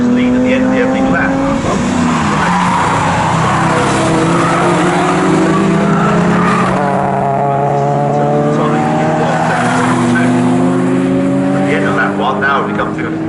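Saloon racing cars lapping Snetterton circuit in a 20-minute race, engines roaring loud and continuous with rising and falling gear pitches as several cars pass, tire squeal, and a commentator talking over the din.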